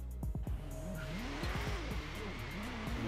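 A revving engine from a Tesla modded with a Koenigsegg Regera engine in Forza Horizon 3, rising and falling pitch sweeping alongside squealing tires, loud and continuous, with an arcade racing feel.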